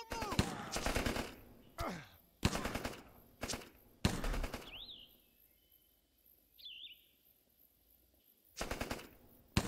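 Gunfire in the Rambo video game, heard as loud, close bursts of automatic fire in short volleys separated by quiet gaps, with faint bird chirps in the background between bursts.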